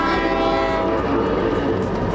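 A passing train with its horn sounding continuously, loud and close, a dense steady blare over rumbling rail noise for the whole stretch.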